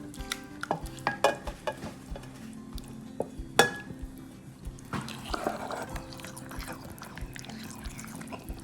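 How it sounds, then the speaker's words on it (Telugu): A spoon stirs tomatoes into pounded green chilli paste for a rustic tomato chutney, giving repeated close scraping and clinking against the bowl or pan with soft wet squelching. "ఇప్పుడు ఈ టొమాటోస్ని మనం దంచుకున్న పచ్చిమిరపకాయ పేస్ట్లు యాడ్ చేసేసుకొని మొత్తం మిక్స్ చేసేద్దాం"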